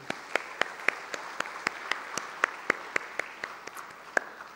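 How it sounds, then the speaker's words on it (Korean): Church congregation applauding during a Sunday service, heard as a quiet, fairly distant patter of claps with a few sharper individual claps standing out in a loose rhythm. "다시 한번 크게 박수 한번 칩시다"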